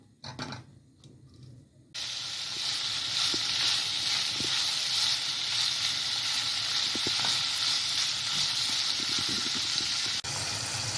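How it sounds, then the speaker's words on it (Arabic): Alexandrian sausage sizzling in a pan as it renders its fat: after a quiet opening, a loud, dense, continuous frying hiss starts suddenly and holds steady, with small pops and crackles near at hand. "أول حاجة هنحط السجق ونشوحه عشان طبعا ينزل الدهون اللي فيه"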